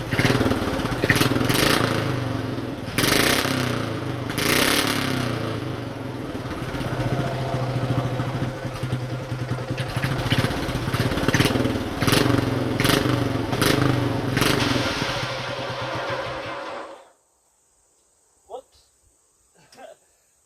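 Old mud mower tractor engine running steadily as it tries to drive, a rough continuous mechanical drone with voices talking over it, cutting off abruptly near the end into near silence with a few faint knocks.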